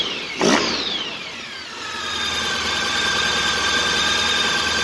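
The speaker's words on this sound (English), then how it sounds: "So let's give it a rev." A 2012 Honda ST1300PA motorcycle engine is revved once up close, climbing sharply. It then settles into a steady, smooth idle that holds with a faint whine.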